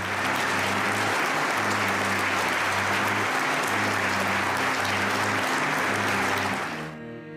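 A large audience in Munich gives Julia Navalnaya a loud, sustained ovation, a dense roar of clapping under a low steady hum that cuts off abruptly near the end.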